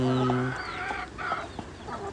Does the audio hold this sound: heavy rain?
no